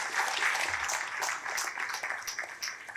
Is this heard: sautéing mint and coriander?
no